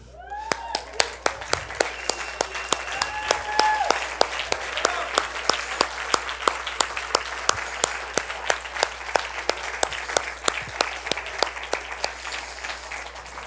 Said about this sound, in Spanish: si llegas mucho más, date un aplauso